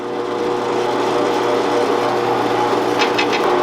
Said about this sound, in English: Seems to be drilling fairly nice.